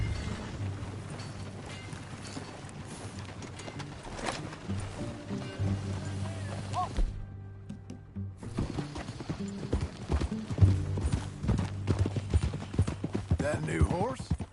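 Horses' hooves clip-clopping while riding in the western video game Red Dead Redemption 2, a continuous trotting rhythm with creaking tack and a brief neigh, mixed with game sound and a short silent gap midway.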